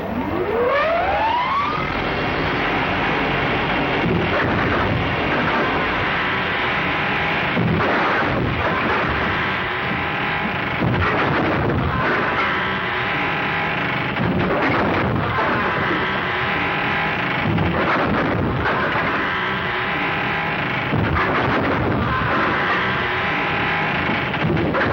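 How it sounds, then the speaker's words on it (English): Gunfire from a window rings out in a 1935 western mystery, loud repeated booming shots spread across the scene over a rising siren-like wail, with no talking. "Firing at him from the window."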